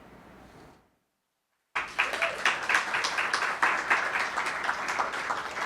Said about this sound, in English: I love that this is a clapping audience.